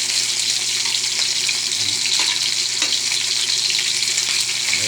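Pagpag leftovers fry in a pan with a steady, close broadband sizzle that holds evenly from start to finish, with a few soft clinks and stirring touches on top.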